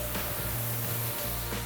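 Steady hiss of a paint sprayer applying house paint on an exterior house project, a short continuous spray burst, close and fairly quiet with a faint hum underneath.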